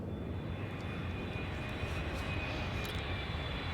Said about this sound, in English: That's the airplane sound for Venom 999 there.